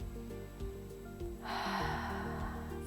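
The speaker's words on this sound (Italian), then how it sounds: "Dentro l'aria dal naso" A slow, noisy inhale through the nose swells in halfway through during a breathing exercise and holds steady for over a second, close and soft over background music.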